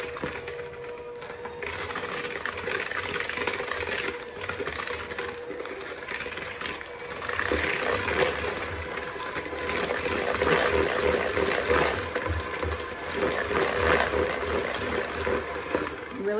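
An electric hand mixer whirs steadily through a bowl of strawberry dessert batter with vanilla and sugar, loud and close, its tone rising and falling as the beaters move, while someone talks over it now and then.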